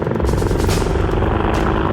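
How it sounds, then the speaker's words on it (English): A pair of US Apache military attack helicopters flying overhead at dawn in Afghanistan, a loud, steady rotor thrum and turbine whine filling the whole stretch with no break. "a pair of US Apache helicopters has also come to"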